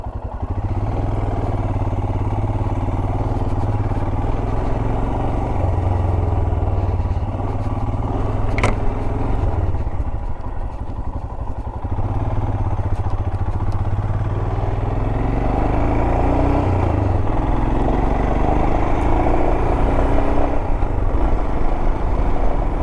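A motorcycle engine drones steadily and loudly throughout a trail ride, a continuous close mid-pitched rumble with some clatter and no talking.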